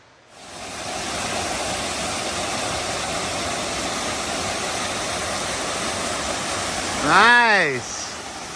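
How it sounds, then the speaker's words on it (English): Fitzgerald Falls running strongly after heavy water, a steady broadband rush of falling water throughout, with a brief higher-pitched chirping sound over it near the end. "Fitzgerald Falls is flowing good. I've never seen it flowing like that."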